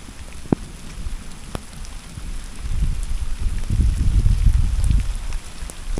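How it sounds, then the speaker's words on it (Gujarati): Unseasonal rain falls in the Gir region during a lightning storm, a steady broadband wash that swells louder toward the middle, with a couple of sharp nearby drips or cracks early on. "વરસાદ અત્યારે ચાલુ છે"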